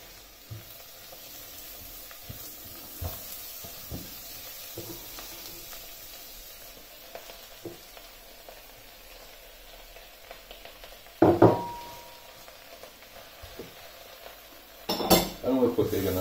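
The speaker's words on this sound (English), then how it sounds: "we're quickly going to saute the spinach off as well with our onions and garlic." Spinach sautéing in a pan with onions and garlic, a soft sizzle beneath scattered clinks and scrapes of a utensil against the pan, with a couple of louder clattering stirs.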